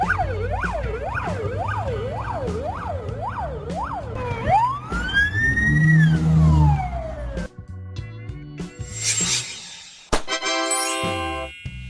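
Ambulance siren in Moldova on a van such as a Mercedes-Benz Sprinter, Volkswagen Crafter or Ford Transit: a rapid rising-falling wail, then a long sweep, then shifting electronic tones, loud and close.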